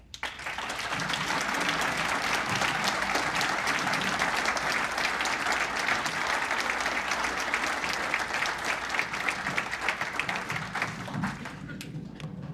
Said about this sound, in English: Please give a great round of applause to my friend Abu Shara.